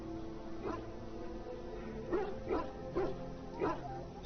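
A dog barks in the Dragon Age Origins video game, giving four or five short woofs in a loose rhythm over a low game backdrop with faint music, with one early bark followed by a close cluster.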